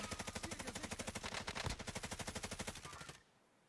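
Rapid automatic gunfire in the battle royale shooter Warzone, a steady stream of evenly spaced shots lasting about three seconds before cutting off abruptly, fairly loud and clear with no talk over it.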